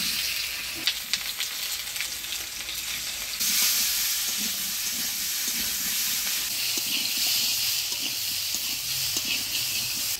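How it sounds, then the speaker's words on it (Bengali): Boiled potatoes with turmeric and salt frying in oil, a continuous loud sizzle with occasional utensil scrapes and soft clatter, intensifying partway through, in a Bengali village kitchen. "এবার সিদ্ধ করে রাখা আলুটা হলুদ লবণ দিয়ে ভেজে নিই।"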